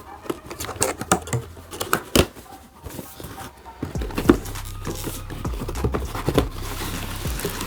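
Cardboard packaging of a Turtle Beach Recon 70 gaming headset is pulled open after being cut, giving scattered sharp clicks, taps and rustles at close range over a low hum, with no talking.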